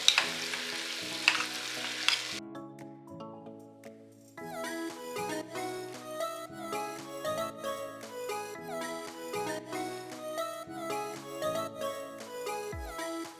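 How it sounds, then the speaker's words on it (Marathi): A spoon stirs kurdai through masala in a frying pan, giving repeated scraping and soft sizzling strokes throughout, with a tonal musical background running underneath. "आता या कुरडया व्यवस्थित मसाल्यामध्ये मिक्स करून घेऊया."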